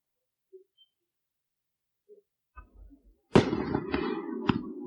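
A Dipsy David firework goes off suddenly with a sharp burst, followed by a crackling, sizzling spray and a couple of pops, after a few faint distant thumps, at an Independence Day fireworks display.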